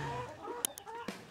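Rhode Island Red layer hens cluck softly in a brief, quiet burst of short calls, with a couple of sharper clicks near the end.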